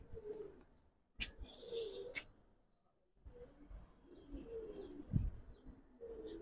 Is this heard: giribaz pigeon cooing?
yes